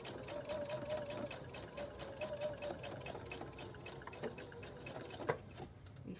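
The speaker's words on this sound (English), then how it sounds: "I'm going to stitch across this raw end of my towel just to go through all the layers so that it's all held together." A sewing machine stitches across the raw end of layered towel fabric, a steady fast mechanical whir with rhythmic needle ticking, close and continuous, slowing slightly before stopping.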